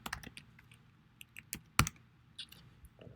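Typing on a computer keyboard, a quiet, irregular run of key clicks with a few sharper strikes, close and alone.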